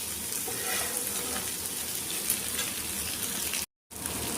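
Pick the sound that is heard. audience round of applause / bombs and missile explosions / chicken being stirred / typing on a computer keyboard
chicken being stirred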